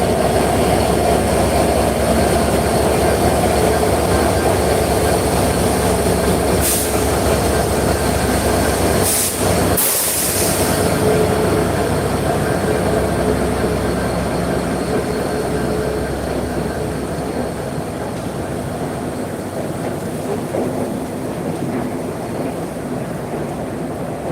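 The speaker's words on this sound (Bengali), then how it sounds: "ট্রেনটি আস্তে আস্তে গতিতে যাচ্ছে" A loud, continuous rumble of a Khulna to Dhaka train rolling slowly along the rails, with a few sharp metallic squeals and clanks in the middle.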